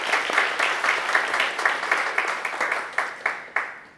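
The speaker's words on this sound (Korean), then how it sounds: "하나님께 다시 한번 우리 감사의 영광의 박수 돌렸으면 좋겠습니다." A church congregation claps in a steady, rhythmic beat at a Thanksgiving service, the claps evenly spaced and fading slightly toward the end.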